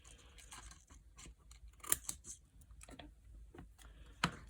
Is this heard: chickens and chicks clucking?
no